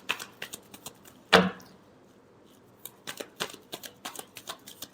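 Tarot cards being shuffled close up, a sharp riffle burst followed by a series of light card taps and flicks spread over several seconds.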